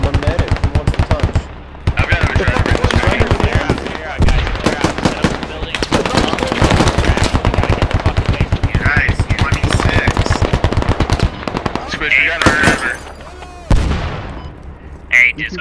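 A Striker vehicle in the game Squad lays down sustained machine-gun fire: rapid, loud, close bursts that run almost without a break, with brief pauses, while players talk over the shooting.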